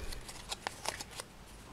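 A paper tab on a handmade paper samurai sword is unwrapped, giving faint, quick crinkling and papery rustles in a few brief bursts, close up and without talking.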